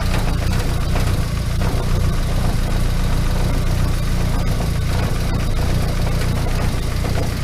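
A Nissan SR20DET engine idles in a car, giving a steady, close, rumbling drone that holds an even rhythm without a break.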